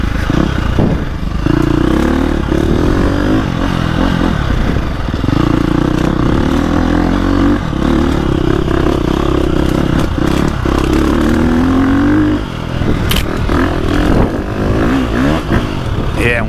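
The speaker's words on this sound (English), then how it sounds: "if you roll into the throttle and it starts building RPMs" A 2025 KTM 350 XCF four-stroke dirt bike engine revs and clatters up close, its pitch climbing and falling with the throttle, loud throughout with occasional rattles.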